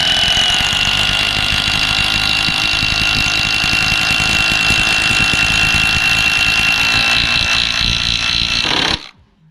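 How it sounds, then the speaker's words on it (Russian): A power screwdriver drives screws into a rafter mounting bracket during roof framing on a house under construction, a loud, steady motor whine held for about nine seconds before cutting off abruptly. "Вот такие вот винты вфигариваю сюда. Именно где упорная, здесь башмак крепежный."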